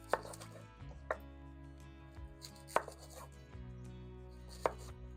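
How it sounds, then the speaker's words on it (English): Onions chopped with a knife on a board, four sharp, close knocks spaced unevenly about a second or two apart over a quiet background with faint handling noise. "So let's get chopping this onion."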